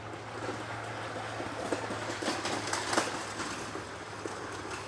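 A vintage wooden roller coaster train at Lakemont Park in Altoona, Pennsylvania, runs along its track with a steady rumbling roar and scattered clacks, heard from a moderate distance.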